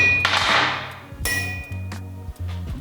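Hammer blows ring out on a VEVOR 132 pound steel anvil, three sharp metallic strikes each leaving a bright sustained ring, loud and close, with no talking.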